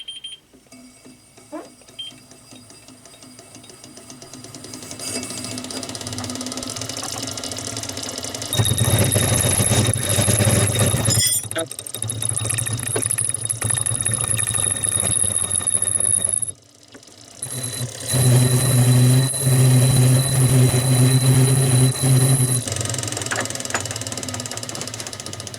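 A homemade lathe with a new headstock turns a part's outside diameter down to 5 inches, its loud steady mechanical drone carrying a high, ringing chatter squeal that drops out briefly and then resumes.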